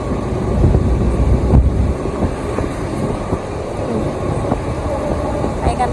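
A train running on the Laos-China railway near Vientiane: a steady, fairly loud low rumble with faint rhythmic clatter, heard continuously without speech.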